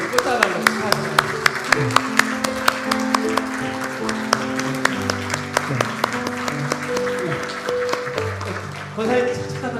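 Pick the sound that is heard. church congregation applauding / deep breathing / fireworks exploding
church congregation applauding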